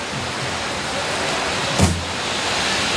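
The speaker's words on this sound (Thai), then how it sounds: "ฝนตกครับฝนตก" Steady broadband hiss of rain fills the background, with a brief louder swish partway through.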